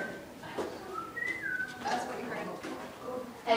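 A person whistles a few short rising and gliding notes, fairly close, with some background noise and movement around it.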